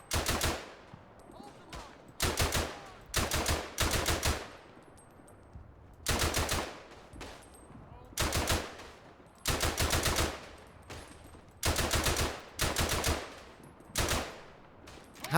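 Machine gun fire in the World War I shooter Verdun comes in repeated loud bursts, each a rapid string of shots lasting about a second, separated by short pauses across the whole stretch.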